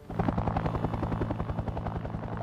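A Bell UH-1 Huey military helicopter flies overhead with the classic rapid, rhythmic blade slap, a steady pulsing thump that runs continuously and fairly loud for the whole stretch, with no voices.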